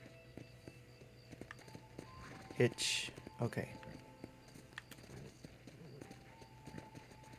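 Horse hooves clip-clop softly in the Red Dead Redemption video game, a few hoofbeats and shuffling steps beneath in-game dialogue and ambient sound.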